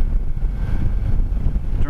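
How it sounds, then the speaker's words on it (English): Steady wind buffets the microphone with a low, rough roar throughout, loud and close, while riding a Yamaha Niken motorcycle. "Oh man, it's windy out today."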